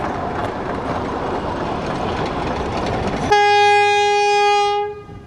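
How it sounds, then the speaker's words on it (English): Rail motor RM58 rumbles steadily across the Dighton River Bridge, then a loud sustained horn blares for over a second before cutting off, heard close with no talking. "watch now for the historic footage of the last motor train, RM58, crossing the Dighton River Bridge and passing through Normanby"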